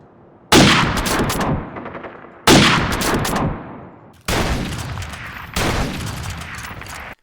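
An M40 sniper rifle fires in Modern Warfare Remastered, four loud, sharp single shots spaced about two seconds apart, each followed by a long decaying echo.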